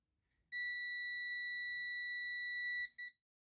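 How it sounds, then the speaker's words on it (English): A Hueper SF01 stud finder gives a single steady high electronic beep lasting about two seconds, followed by a short second beep, alone in a quiet room. "and then you'll hear an audible alarm"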